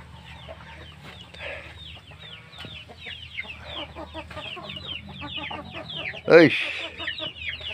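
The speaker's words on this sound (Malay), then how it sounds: "Mari kita tengok anak ayam." Young chicks cluck and chirp busily in a farmyard, a dense, close chatter of short calls with one louder squawk near the end, and a person speaks briefly among them.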